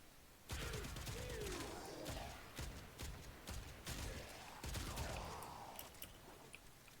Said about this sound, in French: je tire tranquillement, mais c'est un pompe qui mitraille